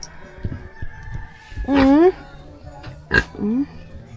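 A large backyard pig makes a few loud, strained vocal calls and squeals in two bursts, with softer snuffling between them, close to the listener.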